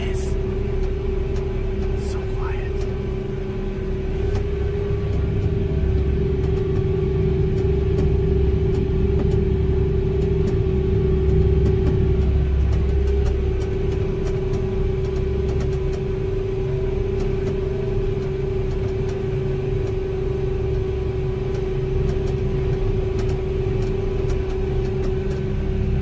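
A 1050 tractor driving on the highway, heard from inside its cab: a steady, subdued engine hum and low road rumble, constant and even throughout.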